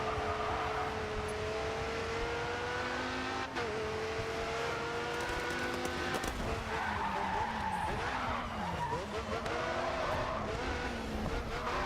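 Race car drifting through a double corner in the racing game GRID 2, with sustained tire squeal and skidding over a steady engine drone, loud and continuous throughout.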